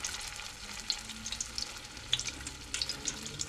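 Meat sears in a pan that is not quite hot enough, making a quiet, crackly sizzle with scattered spits and pops, close but fairly soft.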